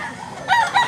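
A rooster at a chicken farm gives a loud, close crow in two rising bursts, standing alone with no talk over it.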